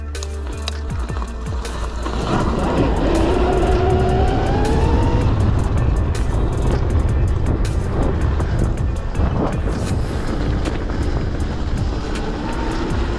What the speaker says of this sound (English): He's on the CRF150RB, and he's gonna take it for a nice little test ride.